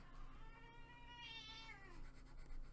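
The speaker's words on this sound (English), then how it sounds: "I can hear my cat." A pet house cat meows once at middle distance, a drawn-out rising and falling call heard faintly indoors over a quiet room hum.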